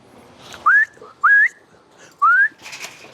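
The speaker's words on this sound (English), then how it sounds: "Whistle, they respond to the whistle very well." Three short, sharp rising whistles at even intervals, loud and close, used to call pigeons out of an aviary, with faint background noise between them.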